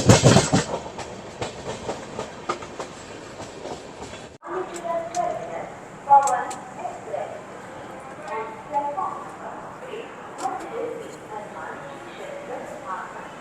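The Pawan Express runs on Indian rails, giving a rhythmic clatter of wheels and carriage rumble under someone talking, with a loud roar at the start before the scene shifts to a quieter interior.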